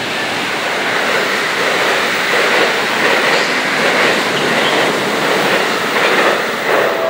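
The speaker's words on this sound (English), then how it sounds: "There comes the train. I hope. No, it's not the right train. Look how fast it is." A fast NJ Transit train on the Northeast Corridor rushes through a station, its loud, steady roar of wheels and rushing air holding for the whole stretch without a break.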